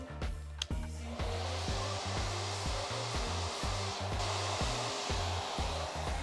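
A hair dryer blows on hair pressed with a round brush, a loud, steady roar close by, joined by a repeating low thumping rhythm underneath throughout.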